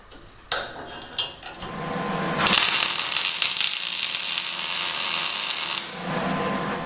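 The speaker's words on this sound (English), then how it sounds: "I'm just going to put 2 tacks in here before I go and weld it all up solid" Sharp metallic clanks come first, then a loud, crackling hiss of welding tacks runs for about three seconds on a tractor snow plow mount before cutting off.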